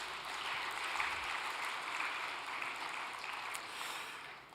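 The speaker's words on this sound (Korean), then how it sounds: "네, 박수 한번 부탁드리겠습니다." Applause from an audience at a special all-night devotional gathering, a steady, dense patter of clapping held at a moderate level throughout, with no voices over it.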